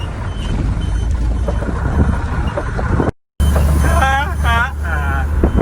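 A Peterbilt truck cruises at about 35 mph with a steady, loud engine and road rumble throughout. A brief gap cuts the sound, and then a voice gives excited whoops over the engine near the end.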